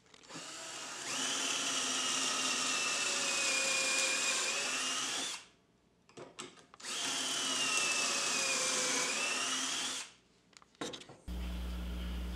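A power drill whines at high speed in two long sustained runs, with short pauses and rattles between them, while a theater flat is built in a home studio workshop. The sound is close and loud, and no one speaks.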